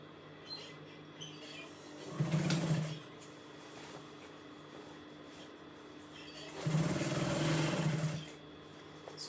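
A vintage sewing machine stitches a fabric box in two separate bursts of fast mechanical whirring, close and moderately loud, with quiet pauses in between and no talk.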